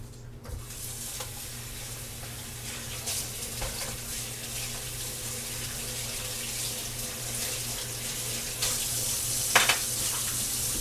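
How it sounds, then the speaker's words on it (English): Hands are washed under a running kitchen tap, giving a steady, close hiss of water with faint splashes, and a louder burst of splashing near the end. "Let me wash my hands"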